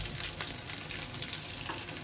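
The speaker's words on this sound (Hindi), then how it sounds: "ये अच्छे से लाल हो गया, इससे ज़्यादा इसको फ्राई नहीं करेंगे।" Aloo tikki fry in hot oil with a steady, even sizzling crackle that stays loud and close for the whole short stretch, no voices.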